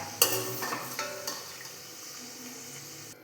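Pieces frying in hot oil on low flame, a soft bubbling sizzle with a few sharp metallic scoops and clinks at the start as a ladle lifts them from the oil, then quieter frying.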